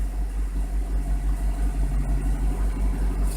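A car engine idles fast at over 1100 RPM after a throttle body and air intake cleaning, a steady close low rumble pulsing in an even, regular rhythm with no talk over it.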